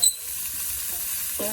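Garlic and red pepper stir-frying in a pan make a bright, continuous sizzle. A short clatter opens the sound, and a brief scrape of the utensil comes near the end.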